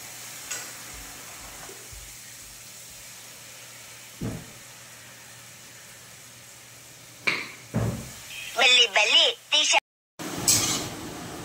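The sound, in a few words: poppy seed paste added to frying masala in oil, sizzling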